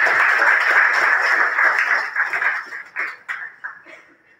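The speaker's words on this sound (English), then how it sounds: "let's give everybody a round of applause for joining us today" Applause from a forum audience, dense and fairly loud at first, then thinning into scattered individual claps that fade out over a few seconds.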